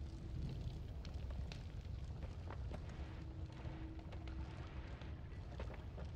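Oil burning in the Noita video game: a steady, dense roar of crackling fire that holds at an even level throughout, with scattered sharp pops and a thin whistling tone partway through.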